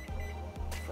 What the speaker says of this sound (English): And then I'm gonna put on a timer for 2 minutes